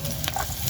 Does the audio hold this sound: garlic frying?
yes